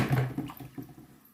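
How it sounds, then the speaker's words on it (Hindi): A small splash of water poured into a pot of kadhi, a brief gurgling pour that trails off into softer trickles within about a second. "इसमें मैं थोड़ा सा पानी ऐड कर दूंगी,"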